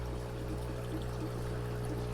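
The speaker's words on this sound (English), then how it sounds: "There's the water flowing." Water flows steadily through a home aquaponics system growing butter crunch lettuce, a soft continuous pour and trickle heard close by alongside a low steady hum, with no talking.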